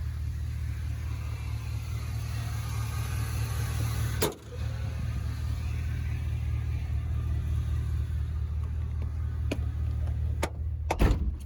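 A 2001 Chevy Silverado 2500HD 4x4 work truck with dual Flowmaster 40 exhausts idles with a steady low rumble, heard from inside the cab, broken by a few sharp clicks and knocks.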